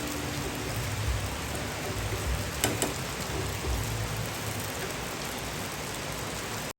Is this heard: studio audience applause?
no